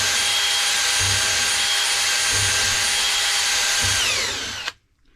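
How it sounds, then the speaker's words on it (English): A power drill whines steadily and loudly at close range while cleaning rust and old grease from the brake caliper passages of a 2011 Nissan Altima 2.5 SL, then stops abruptly near the end. "I grabbed my drill here"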